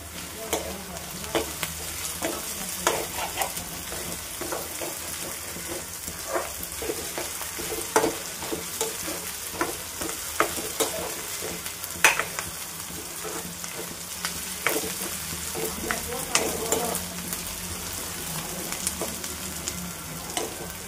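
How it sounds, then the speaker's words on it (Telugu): Ginger garlic paste for a beetroot stir-fry crackles quietly in a pan for a long stretch. Soft sizzling continues throughout, broken by frequent light spatula scrapes and taps, with no talking. "అల్లం వెల్లుల్లి పేస్ట్ పచ్చి వాసన పోయేంత వరకు వేపుకోవాలి."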